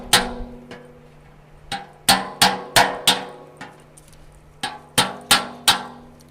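Sharp metallic hammer blows on a chisel while charcoal is being made, struck in two bursts: a few scattered hits, then a quick run of four, a pause, and another run of four, each ringing briefly; no talking.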